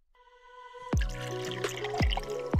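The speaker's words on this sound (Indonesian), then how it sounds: "Kita tuangkan airnya perlahan-lahan" Water is poured slowly into a plastic bottle. Soft hollow trickling rises as it fills, broken by a few distinct splashing drips, close by with no talk.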